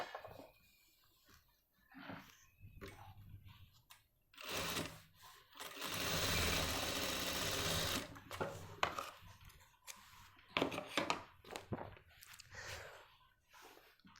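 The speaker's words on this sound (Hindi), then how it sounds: "इसके बिल्कुल नीचे सिलाई मार देंगे।" Sewing machine stitching a seam on a Nehru-style jacket: short bursts of motor whir followed by a steady run of stitching lasting a few seconds, then more brief bursts with fabric handling in between.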